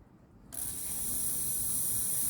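After a short quiet start, a pressurised can of cleaner sprays steadily through a fuel injector on a Holden HSV engine, producing a loud, continuous hiss that holds to the end.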